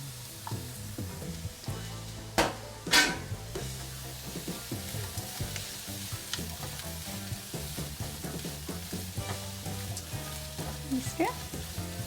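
Chopped capsicum sizzles and crackles steadily in a hot pan of broccoli egg bhurji, with a few sharp clacks of a spoon stirring against the pan.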